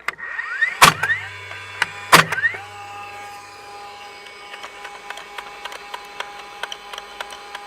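DeWalt DCF920 20V cordless framing nailer toenailing into a stud wall: two sharp, loud nail shots a second apart, each with a brief whirring reset, followed by lighter clicks and handling.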